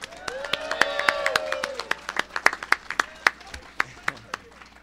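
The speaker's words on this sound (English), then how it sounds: "Can we get one more round of applause for New Jersey Weed Man?" A small crowd at a New Jersey rally claps in a scattered, uneven burst that thins out toward the end, with a voice speaking underneath the early claps.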